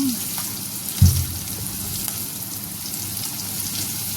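Onions frying in a pan at home, a steady close sizzle and crackle that runs throughout, with one soft thump near the start as they are stirred.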